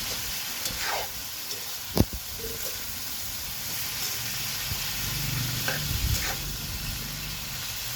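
Ampalaya (bitter gourd) being stir-fried in a pan, with a steady sizzle and scraping stir strokes, plus one sharp clack of the utensil against the pan partway through; no talking.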